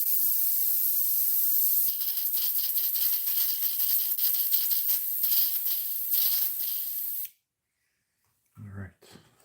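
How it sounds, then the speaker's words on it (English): An airbrush is cleaned while painting a musky crankbait lure, giving a loud, continuous hissing spray for about seven seconds that cuts off abruptly, followed by a brief faint rattle. "Just cleaning the airbrush."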